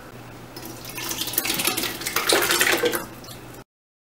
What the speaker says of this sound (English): So I am going to actually scrape this really good because I want every little morsel in our salsa.